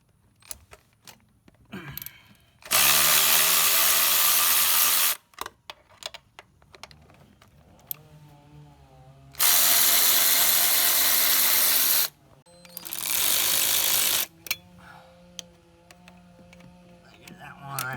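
A power ratchet with an extension working on a Mercedes SLK320 during a tune-up, whirring loudly in three separate bursts of a few seconds each, with quiet clinks of tools and handling between them.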